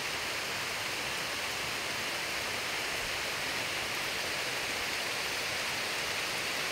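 Steady rain falling, a dense, even hiss that continues unchanged throughout, moderately loud, with no voices.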